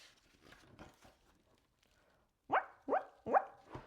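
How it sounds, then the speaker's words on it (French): For the cartoon duckling Léonard, a storybook sound effect of a dog barking plays: four short, fairly loud barks in quick succession after some soft, scattered rustling. "Léonard se dandine en aboyant joyeusement"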